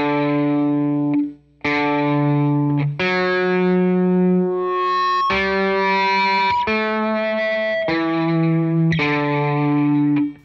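Line 6 Helix random trigger pitch effect on electric guitar layers a different random interval over each held note, so sustained distorted tones shift in harmony from one note to the next. Loud and close, with no talking.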